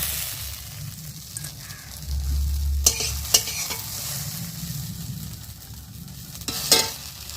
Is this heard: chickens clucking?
no